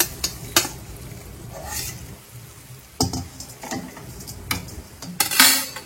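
Thavala adai batter being stirred in a metal pot, with a spoon scraping and clattering against the sides in irregular bursts, close and fairly loud, with faint sizzling between the strokes.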